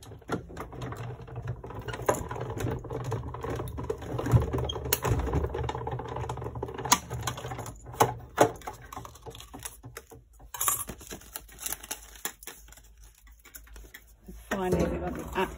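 A die cutting machine presses through paper card stock for a tulip-and-windmill card, giving a quiet, irregular run of clicks, rattles and mechanical thuds with faint talk mixed in.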